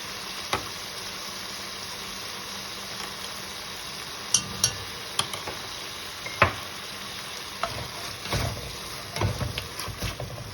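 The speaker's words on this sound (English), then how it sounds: "Cook a few minutes, and then I'm going to add the veggies, stir some more." Chicken and garlic stir-fry in a pan for a keto dish, giving a soft, steady sizzle with occasional light clinks and taps of a utensil against the pan.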